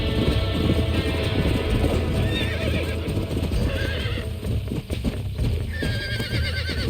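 Horse neighing and whinnying with clip-clop hooves in the Red Dead Redemption Remastered video game on a ranch, loud and continuous with game ambience and no talk.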